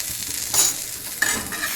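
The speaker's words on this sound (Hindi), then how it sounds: "अब मैं इसे फ्राई कर दूँगा थोड़ी सी और।" Food frying and being stirred in a pan, a steady sizzle with two short scraping stirs standing out, close and without talk.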